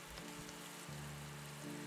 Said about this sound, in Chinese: 从开盖后再煎一分钟